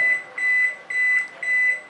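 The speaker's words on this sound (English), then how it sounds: "30 seconds has been completed, so you are getting this beep" An IFB 23-litre convection microwave oven beeps as a 30-second heating cycle finishes, giving four evenly spaced, clear electronic tones close by with no talking.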